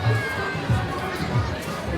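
A crowd waiting at a busy misal eatery fills the air with steady, moderately loud overlapping chatter.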